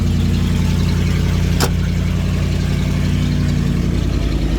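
A loud Ford Ranger diesel truck engine idles close by while warming up, a constant low rumble broken once by a brief sharp click.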